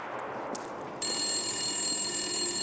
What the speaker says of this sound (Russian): и снова звонит телефон